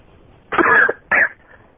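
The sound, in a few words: coughing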